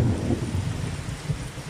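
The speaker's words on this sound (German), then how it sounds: "also besonders hier gerade heftiger Regen" Thunderstorm with heavy rain and gusts during a cold front, a dense, steady low roar of downpour with rumbling thunder underneath, continuous and fairly loud throughout.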